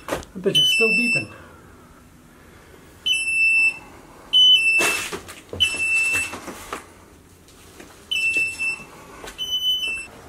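Smoke detector in a rental house during a tenant eviction, chirping in repeated short high beeps at intervals, with voices and household knocks between them.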